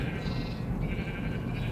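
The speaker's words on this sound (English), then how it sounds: "I made a farm, both with sheep" Sheep bleat on a farm in a Minecraft-style video game, a drawn-out wavering bleat carrying over a busy, noisy game background with no speech.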